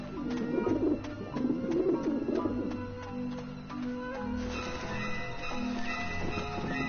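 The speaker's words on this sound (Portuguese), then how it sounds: "Nossa, que desespero esse barulho de pombo." Pigeons coo repeatedly through the scene of the video game Grim Fandango, layered over a steady game soundscape with rhythmic low background tones and a dense ambient bed.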